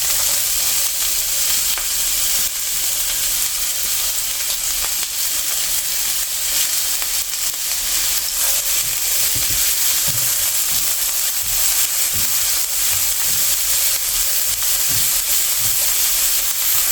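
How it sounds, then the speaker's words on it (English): Onions frying in olive oil in a pan over low heat, giving a steady, even sizzle and hiss throughout with a few soft stirring knocks near the end, close and continuous with no talk. "To the oil, I'm going to be adding some onions."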